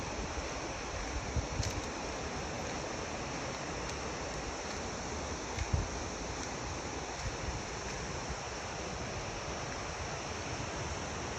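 Steady, dense rush of a rain-swollen river in rural Japan, loud and continuous throughout with no other clear sounds.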